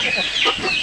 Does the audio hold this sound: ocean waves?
no